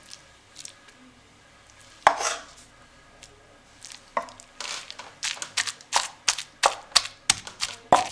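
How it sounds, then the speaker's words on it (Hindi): Cooled chicken shami kabab spice mix mashed in a mortar, starting with a few scattered knocks, then settling into steady, rhythmic pounding thuds, close and clear, with no talking. "अब इसे कुंडी में हम मैश कर लेंगे।"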